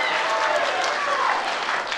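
Audience applause at a Papua gubernatorial public debate, a steady broad wash of clapping from a crowd filling the hall, sustained and fairly loud throughout.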